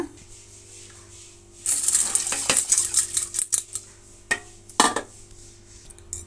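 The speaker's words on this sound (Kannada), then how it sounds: "ಇದನ್ನು ತೊಳೆದು ನಾವು ಪಾತ್ರೆಗೆ ಸೇರಿಸೋಣ." Lentils being rinsed and tipped into a metal cooking pot for a radish-greens saaru: a quiet start, then a burst of clattering, scraping and sloshing against the vessel, with a few sharp knocks near the end.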